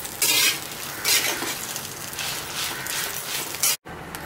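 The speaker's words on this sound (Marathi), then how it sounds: "आता मी याच्यामध्ये लसूण पण टाकणार आहे आणि थोडं परतून घेणार आहे" Garlic and green chillies stir-fried in a pan for a spice masala, giving a steady close sizzle with bursts of scraping as a spoon turns them, then a brief silent gap near the end.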